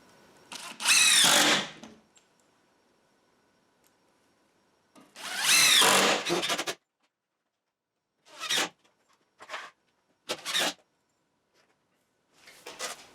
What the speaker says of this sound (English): you just saw me putting screws into this